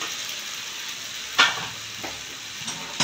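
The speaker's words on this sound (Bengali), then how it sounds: "জেলে রাখা মাছের মাথাগুলোও দিয়ে দেবো।" Fish heads and spices are stirred in a hot pan for a Bengali muri ghonto. A soft steady sizzle is broken by a sharp scrape or clatter of the spoon, then several fainter stirring knocks.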